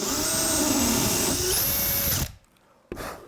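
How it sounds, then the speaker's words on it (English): A power drill whines steadily at high speed while boring a 1/8 inch hole in wood, then cuts off abruptly and gives a brief final burst, close and alone. "drill a nice 1/8 hole."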